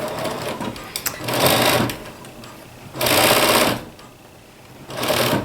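Domestic sewing machine stitching facings in short bursts, three bright whirring runs separated by quiet pauses, close and clear with no talk.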